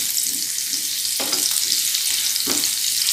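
Garlic and ginger fry in hot oil with a loud, continuous crackling sizzle, and two brief stirring scrapes cut through it, close up.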